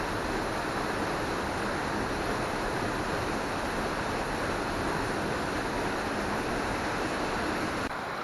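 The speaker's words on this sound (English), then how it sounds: "Now here's the 2-meter waterfall, I suppose, on the way out" A small two-meter waterfall on a creek near Allstones Lake, heard close up as a steady, loud, unbroken rush of falling water with no talk over it.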